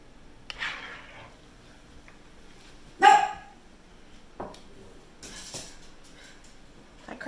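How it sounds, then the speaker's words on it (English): A dog barks in a home kitchen while vegetable soup is being cooked: a few sharp, separate barks, one loud and close, the rest softer and spaced out, over quiet background. "She likes to bark when we go turn on the camera."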